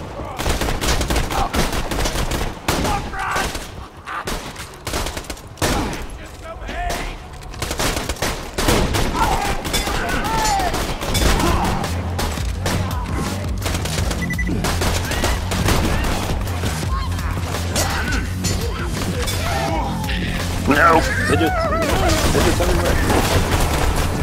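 Shotgun gunfire in the video game Borderlands 2, with dense bursts of shots and booms that run loud and continuous under chaotic game audio, with some talk mixed in.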